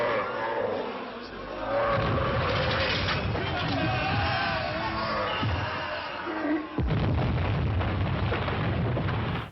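The giant monster Pulgasari destroys a building in a monster film: loud rumbling crashes and collapsing debris with crowd shouting and battle noise throughout, and a fresh heavy crash near the end.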